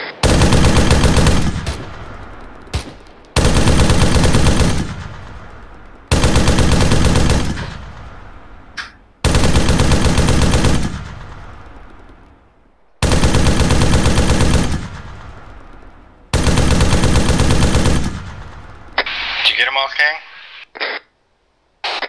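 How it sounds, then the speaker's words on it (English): A .50 caliber machine gun in ARMA 3 fires in long, loud, sustained bursts, roughly six of them separated by short pauses, with brief radio-style chatter near the end. "As soon as Horton starts shooting, get that 50 going."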